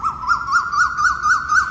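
A Philippine frogmouth gives a repeated rising-and-falling call, about seven even notes in a steady rhythm, clear and fairly close against a quiet background, in Bohol.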